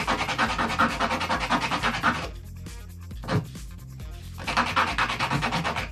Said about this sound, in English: I'm not just rubbing backwards and forwards here